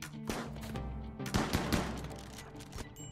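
Colonists open fire on incoming raiders in the Rimworld video game, with rapid bursts of gunfire and overlapping shots cracking in clusters, some heavier impacts among them, fairly loud and continuous with no talking.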